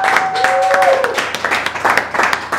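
Stand-up comedy audience clapping for a comedian as he leaves the stage, loud scattered applause with a brief whistle and a few voices mixed in.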